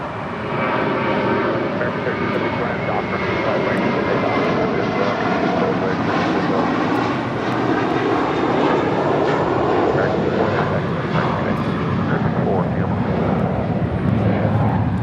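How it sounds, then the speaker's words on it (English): An American Airlines Airbus A321 takes off from LAX bound for JFK, its jet engines roaring in a broad, sustained rumble that swells and stays loud across the whole stretch. "This is American Airlines Flight 4 taking off to JFK on an A321"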